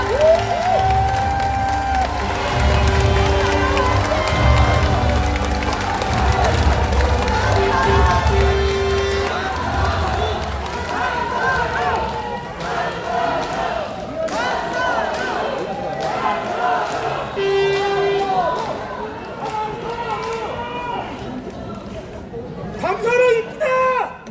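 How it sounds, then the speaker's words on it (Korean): At a Democratic Party joint campaign rally in Daejeon, a large crowd cheers and claps as a candidate is welcomed onstage. The roar is loud and sustained, with an amplified voice and tonal sounds carrying over it. "큰 박수 부탁드립니다"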